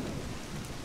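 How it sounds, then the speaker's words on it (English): A brief burst of heavy rain with a low thunder rumble forms a dense, continuous wash of sound, and no one speaks. "Hope you can still hear me over the rain"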